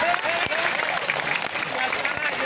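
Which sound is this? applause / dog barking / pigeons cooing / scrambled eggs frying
applause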